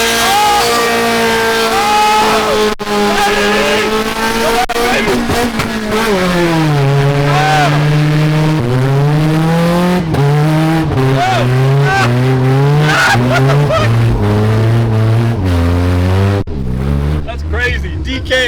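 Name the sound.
Honda Civic drifting on McDonald's trays under rear tires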